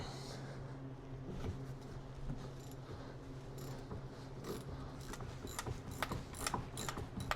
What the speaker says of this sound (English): So let's take our 16mm wrench.